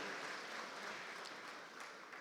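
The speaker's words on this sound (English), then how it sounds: "a round of applause for the First Lady of Nigeria" Steady applause from a large crowd at a formal event in Nigeria, dense and continuous with no voices, tapering slightly toward the end.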